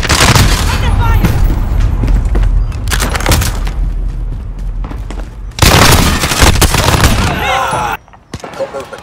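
Dense Call of Duty gunfire from a Chopper Gunner match, with sustained bursts and booming impacts running almost without a break. The gunfire swells into louder volleys around the middle and then cuts off abruptly near the end.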